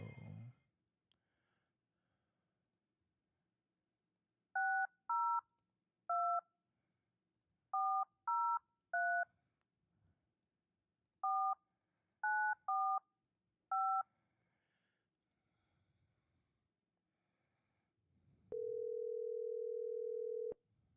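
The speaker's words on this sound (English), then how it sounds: "let's make a phone call" A phone dialing sequence: about a dozen short, evenly spaced touch-tone beeps in irregular clusters, faint breathing between them, then a steady ringing or dial tone holding for a couple of seconds near the end.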